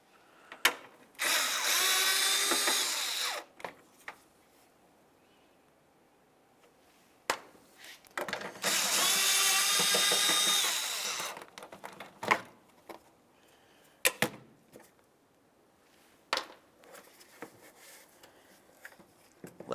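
Ratchet work on two 11mm bolts holding a washer fluid tank on a 2003-2011 Mercury Grand Marquis, two sustained bursts of rapid clicking separated by scattered metallic clinks and handling knocks, close and fairly loud.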